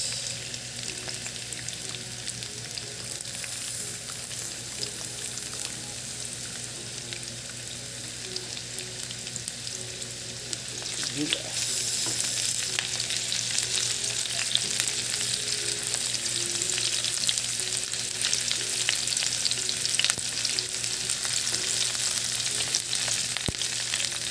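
Onion sautéing in hot oil with garlic gives off a steady, close frying hiss that grows a little louder partway through, with occasional faint stirring clicks and no voices.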